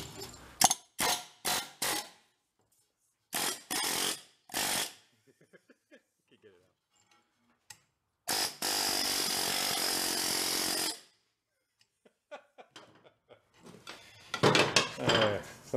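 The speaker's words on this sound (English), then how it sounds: "Actually, we have air tools. Why don't we just use them?" Pneumatic air tools working on an old Harley cart transaxle from a scrap yard: sharp rattling bursts of an impact tool, some short and one long sustained run, separated by quiet gaps and small clanks in a workshop.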